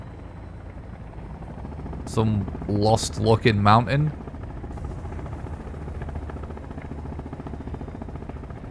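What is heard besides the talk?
helicopter flying, from the video game Sons of the Forest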